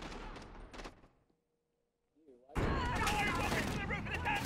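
Heavy gunfire in Call of Duty Modern Warfare, bursts of shots at the start, a near-silent pause, then loud dense rapid fire that continues to the end.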